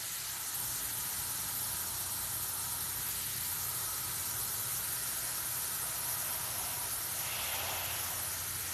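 An airbrush sprays paint in a steady, close airy hiss that runs without pause, with a faint low hum beneath it.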